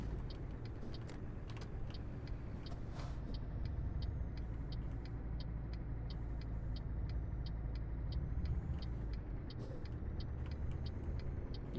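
Low, even truck engine idle in Euro Truck Simulator 2 drones throughout, a faint rhythmic ticking running on top, with one brief hiss partway through; no talking.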